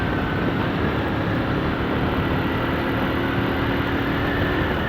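A motorcycle engine runs steadily in fourth gear, producing a continuous, loud, even drone with no breaks and no voices.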